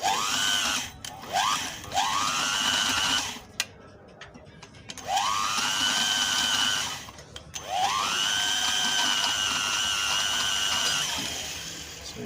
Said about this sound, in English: You have to decrease the speed of the drill using a transformer, a step down.